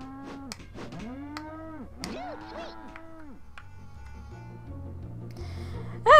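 Cows in the South Park N64 video game moo in a run of drawn-out, rising and falling calls, layered and fairly loud over quiet game music, with a sharp squeal at the very end.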